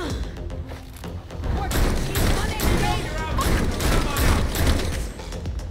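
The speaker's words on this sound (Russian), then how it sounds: "Что за стрельба-то такая?" Rapid gunfire and heavy impacts rattle through a combat scene in the video game Gotham Knights, a dense, continuous burst of shots, thuds and crashes at steady loudness.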